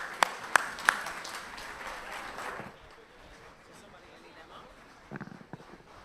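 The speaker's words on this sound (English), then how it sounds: "another big round of applause for the Honorable Mia Amor Motley" Audience applause at the CARIFESTA XV festival in Barbados, a few sharp claps fading out after a few seconds, then brief scattered claps returning near the end.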